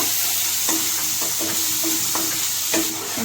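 A spoon stirring spiced rohu fish curry in a sizzling pan in a Kolkata kitchen: a steady hiss of frying, broken by about half a dozen scraping strokes at a regular pace, close by and with no talking.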